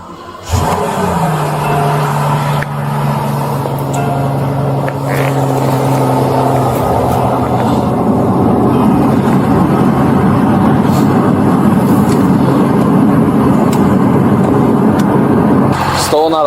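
A Rolls-Royce engine cranks and fires up, then settles into a loud, throaty rumble with revs rising, while people talk nearby.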